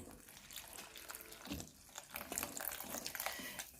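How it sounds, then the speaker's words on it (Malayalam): Water pours steadily for a few seconds, a close, splashy gush into a bowl of cornflour batter being thinned for spring rolls, with no talking. "നമുക്കൊരു തിൻ ബാറ്ററാക്കാം വെള്ളം ഒഴിച്ചിട്ട്"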